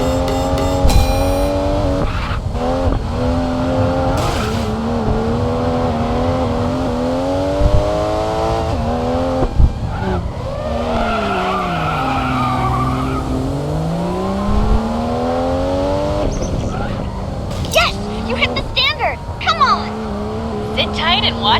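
Race car engines in the mobile racing game Racing Master rev and whine through rising and falling pitch sweeps, with tire squeal as the car drifts and occasional sharp bursts, loud and continuous over the whole stretch.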